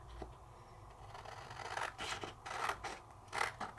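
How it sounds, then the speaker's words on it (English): Scissors snip out a paper tag with several quiet, close cutting strokes, each a short crisp rasp, with faint paper rustle between them. "I think I'm gonna cut these one of these tags out"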